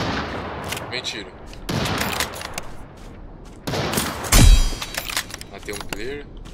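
Bursts of rapid gunfire in the video game Lost Light, close and loud, come in short volleys, with one sharp heavy blast near the end amid clattering noise.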